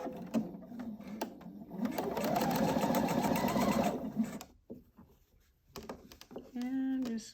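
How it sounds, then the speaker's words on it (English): A sewing machine stitches across a quilt block in a loud, steady motor run lasting a few seconds, then stops, followed by handling noises and a brief restart, with a voice speaking faintly at times. "so now I can stitch across."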